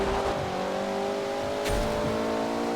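A Mitsubishi Eclipse engine in Forza Horizon 2 holds a steady, droning tone on a wet track, with a brief louder burst partway through and no talk.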